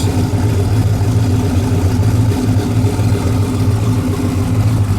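A car engine fitted with Holley EFI and a mechanical fuel pump idles steadily just after a cold start, with the idle set slightly low; a loud, continuous low rumble runs unbroken throughout, with no talk.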